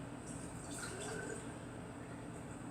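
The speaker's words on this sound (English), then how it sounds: "I'm going to pour 1 8-ounce cup" Milk being poured into a jar on a kitchen counter while making mac and cheese, a faint steady liquid trickle heard up close and alone with no talking.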